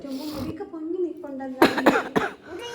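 Several short, sharp coughs from a child break out in quick succession between stretches of quiet talking nearby.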